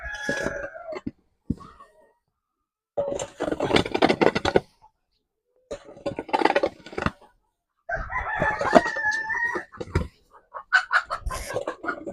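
Free-range chickens cluck and call in several bursts inside a poultry shed, with a rooster crowing among them, close by, separated by short silent gaps.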